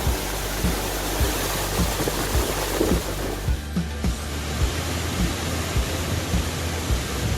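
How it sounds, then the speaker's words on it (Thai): Water rushing steadily at Khlong Lan waterfall, a dense continuous roar close by with wind buffeting the microphone and no talk. "ที่เห็นอยู่นี้ก็คือน้ำตกคลองลานนะครับ"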